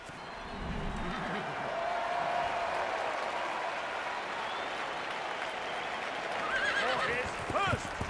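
Horse neighs and whinnies in a House of the Dragon episode, a loud whinny rising near the end over a steady bed of crowd noise and music.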